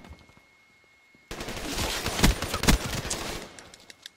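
Black Ops 3 video game gunfire, a sudden loud sustained burst of rapid automatic shots with a couple of sharper cracks, close and dense, fading out after about two seconds.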